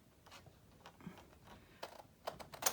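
Scissors snip through 12 x 12 cardstock for a junk journal folio, a few faint, sharp, separate cuts that come closer together and louder toward the end.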